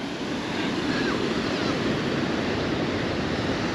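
Surf rolls in steadily at Tondaligan Blue Beach near Dagupan, a dense, constant wash of breaking waves with some wind buffeting the microphone, no voices.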